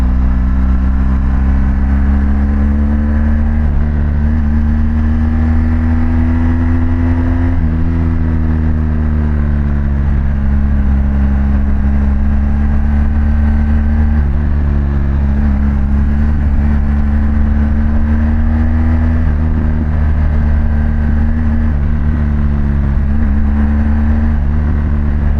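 A BMW GS Adventure motorcycle being ridden, its engine droning loud and steady with the pitch rising and dipping slightly under throttle, wind noise over it and no talk.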